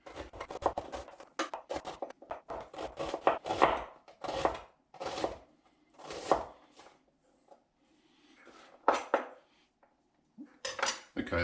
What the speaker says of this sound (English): that's the onion chopped up finely